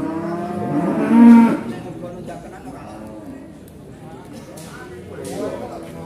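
A cow of about 600 kg lets out a loud, drawn-out moo close by at a livestock market, followed by a quieter second low call, with a voice speaking in between.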